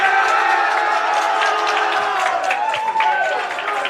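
Fellow students cheering on a bowler at a high school prep bowling match, a lively crowd of whoops and shouts with voices mixed in, fairly loud and sustained.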